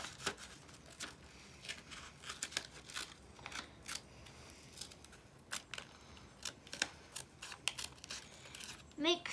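Scissors snip repeatedly through paper while a paper flower is cut out for a blooming flower card, giving short crisp cuts at an irregular pace with light paper rustle, fairly close and quiet.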